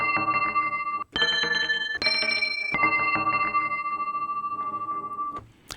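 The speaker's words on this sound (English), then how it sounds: "I have picked a sample that is called coin thwack" A coin thwack sample layered on a synthesizer rings out as bright, sustained metallic tones with bell-like harmonics, retriggered in several distinct segments before a final short hit.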